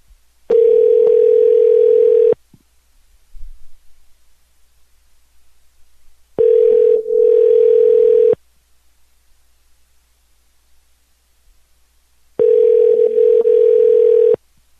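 A telephone ringback tone sounds loud and clear as three long, even buzzes of about two seconds each, separated by roughly four seconds of silence, with no voices.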